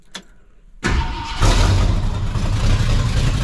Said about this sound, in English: In here in the engine, it does run, actually. I'll just fire it up for you